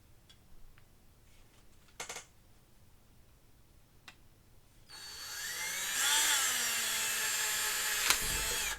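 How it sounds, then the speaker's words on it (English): A few light ticks and taps, then a small power drill whirs up and drills holes into a Warhammer Necromunda miniature for magnets, a sustained high whine close by that shifts in pitch as the bit bites. "we drilled out these 2 holes right here"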